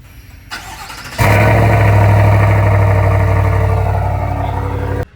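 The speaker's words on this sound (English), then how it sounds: "A cold start." A 2024 GMC AT4 pickup with a 6.2 V8 cold-starts: a brief crank, then the engine catches with a loud surge and settles into a steady, heavy high idle that holds for several seconds before cutting off.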